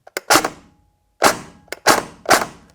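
SSR77 toy gun set to precocking fires four sharp cracks in quick succession after a brief mechanical click, loud and close with a short pause before the last three rapid shots, no voices.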